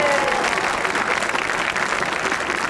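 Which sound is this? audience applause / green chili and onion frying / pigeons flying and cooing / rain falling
audience applause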